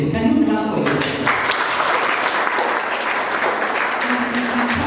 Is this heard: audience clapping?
yes